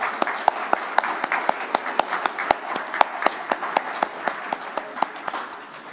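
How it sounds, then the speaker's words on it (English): Applause for panelists at a Saturday afternoon symposium, a modest crowd clapping with sharp, distinct individual claps standing out over a softer background patter, steady throughout and tapering slightly at the end. "Let's give them a round of applause."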